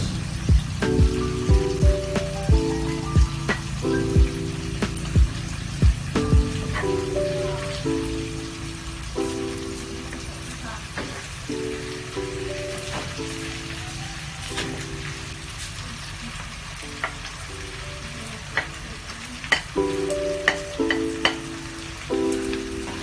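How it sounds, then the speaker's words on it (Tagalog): Potatoes go into a pan of onions for a Spanish tortilla de patatas, giving a steady crackling sizzle that runs the whole time beneath a melodic music bed. "isunod natin yung ating patatas dito sa ating sibuyas."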